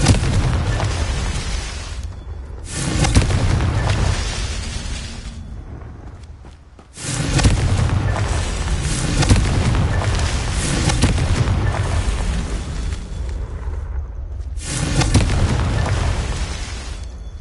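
Repeated Confringo fire-spell blasts in Hogwarts Legacy, three long booming explosion bursts with rumbling tails separated by brief quieter gaps, loud and full.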